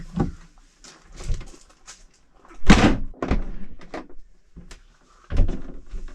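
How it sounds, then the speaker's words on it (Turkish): A door swinging shut at a caravan glamping campsite, with a loud thud near the middle among quieter knocks and handling noises, then another bump toward the end. "Bir kapıyı kapatalım bakalım nerede açılacak."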